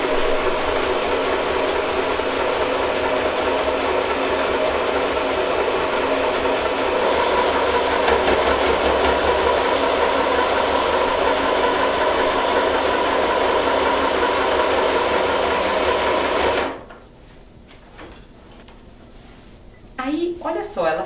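A sewing machine stitches a seam on eco bag fabric, running as a steady, loud mechanical whir for about sixteen seconds before it stops. Someone speaks over it, and faint handling noises follow once it goes quiet.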